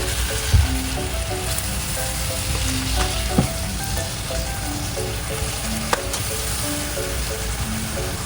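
Chicken in sweet soy sauce (ayam masak kicap) sizzles steadily in a hot pan, a dense, even frying hiss broken by a few sharp clinks and stirring knocks, with no talking.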